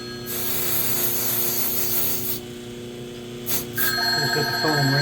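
A telephone bell rings in a workshop where a gun stock is being shaped and sanded; a steady rubbing, sanding sound fills the first seconds before a bright, pulsing ring takes over near the end.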